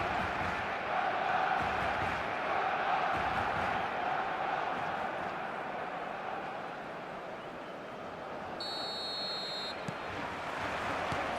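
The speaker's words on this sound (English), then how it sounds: "This crowd doesn't do ordinary, and we should be in for something very special" A large stadium crowd in the eFootball video game roars and chants in a steady wall of noise on a Barcelona match day, loud and continuous, with a brief whistle-like tone near the end.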